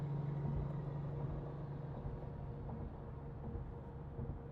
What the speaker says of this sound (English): boy, listen to this truck,